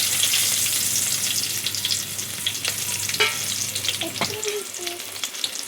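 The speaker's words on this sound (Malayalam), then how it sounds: "ഉള്ളി ഇടുക." Steady oil sizzle with shallots frying close by after mustard seeds, a few clinks and stirring scrapes toward the end, no talking.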